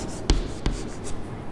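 Marker or chalk strokes on a classroom board while writing out a matrix notation, two short distinct taps amid quiet scratching, close and fairly soft with no talk.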